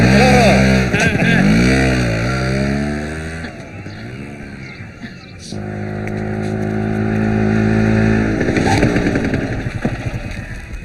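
An auto rickshaw engine runs steadily with a throaty motor drone that swells and dips slightly, heard close by under people talking.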